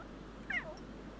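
A single short meow from a cat in The Sims 3, rising then falling over about half a second, moderately loud against a quiet steady game background.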